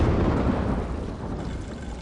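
Thunder rolls at night in Mortal Kombat 1 during a lightning storm, a loud, continuous deep rumble that fades slightly toward the end, with no voices over it.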